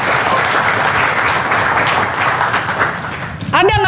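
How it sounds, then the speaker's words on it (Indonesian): A large audience at a talk about drinking water applauds loudly and continuously, forming a dense wash of clapping that runs unbroken until a voice cuts in at the very end. "Tepuk tangan buat kita semua sekalian ya."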